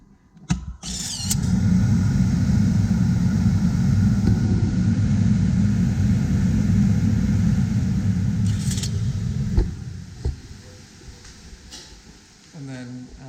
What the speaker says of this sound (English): If you turn the saw on, you get the same thing. The dust collector will turn on.